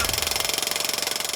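Pneumatic drill hammering in a rapid, even machine-gun rhythm, loud and close, with a harsh rattling pulse throughout.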